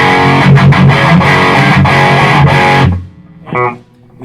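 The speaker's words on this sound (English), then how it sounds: "So here's the distortion channel." Electric guitar played through an amp's distortion channel: about three seconds of loud, saturated chugging riffs that cut off abruptly, then one brief distorted chord rings out and fades.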